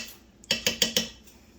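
A metal spoon clinks four times in quick succession against a pot or bowl while being rinsed out during cream of asparagus soup preparation, sharp and close, with quiet kitchen background and no talk.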